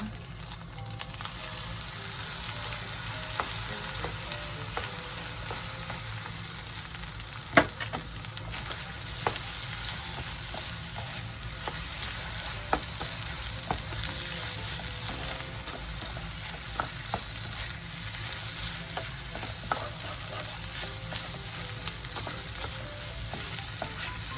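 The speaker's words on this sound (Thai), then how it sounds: "ไข่ขาวที่เราแยกไว้ เรานำลงไปผัดด้วยกันนะคะ" Separated egg whites stir-fry with rice in a pan, giving a continuous soft sizzle broken by occasional scraping and tapping of the spatula, heard up close without any speech.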